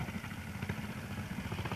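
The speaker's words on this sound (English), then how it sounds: "That's a Jap engine in a matchless rolling chassis." A JAP-engined motorcycle in a Matchless rolling chassis, out on a trials section, running at a steady mid-pitched engine note with a faint background clatter.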